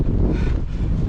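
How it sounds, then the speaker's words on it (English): A strong gust of high wind near Tehachapi on the Pacific Crest Trail slams straight into the microphone, a loud, continuous buffeting roar that fills the whole moment without a break. "That was a big gust."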